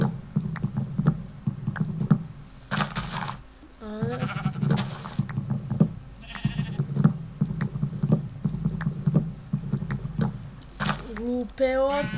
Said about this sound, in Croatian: Glupe ovce i ovnovi.